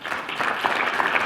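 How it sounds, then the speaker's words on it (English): An audience at a motivational talk bursts into steady applause, dense clapping from a large crowd filling the moment without a break. "that applause is for yourself"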